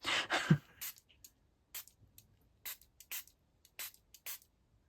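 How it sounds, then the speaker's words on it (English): A handheld spritz bottle misting water onto watercolour card, close and quiet, with about nine short sharp hissing sprays spaced irregularly between near silence. "let's get the spritz out again"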